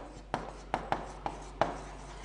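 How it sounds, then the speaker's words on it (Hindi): Five short, distinct strokes are written on a board during an English grammar class, each a quick scratch over a quiet room hum. "अगर मैं यहाँ पर एक बात लिखती हूँ बच्चे"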